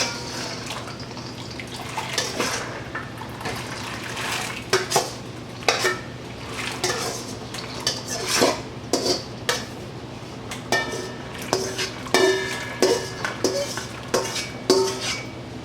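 Field peas tipped into a pot of hot water for canning, with loud clattering of metal pot and utensils, splashing and stirring, busy irregular clanks throughout, no talk.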